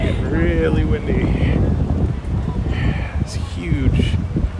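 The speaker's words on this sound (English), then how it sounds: "It's getting really windy." Gusty wind roars across the microphone while walking through a large parking lot, a loud, constant rumble with people talking over it.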